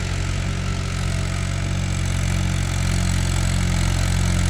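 A Mahindra 575 DI tractor engine, just back from engine work, idles steadily and loudly up close with an even, low throbbing beat and no pauses.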